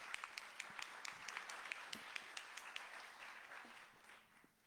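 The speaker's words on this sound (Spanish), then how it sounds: "Un aplauso, por favor." Audience applause at a book presentation: a crowd claps steadily in a hall, moderately distant, fading out toward the end.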